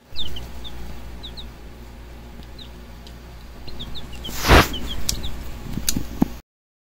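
Chickens, including blue Australorps, cluck and call repeatedly in a backyard chicken run, with short close chirps scattered throughout, one louder burst midway and possible wing flaps.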